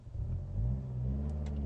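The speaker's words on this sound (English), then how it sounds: "First gear's engaged, wide open throttle." A Ford Focus accelerating hard at wide open throttle in first gear, its engine note rising steadily in a loud, close, continuous revving drone.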